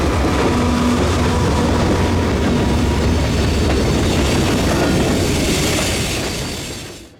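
A freight train of just over 100 cars, with two locomotives up front and one mid-train unit, passes near Scranton as a loud, steady rumble and rattle that fades away at the end.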